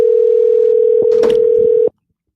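Steady telephone dial tone heard while placing a call through a Rodecaster podcast mixer during a live show, a continuous loud single tone with a few brief clicks and rustles, cutting off abruptly near the end.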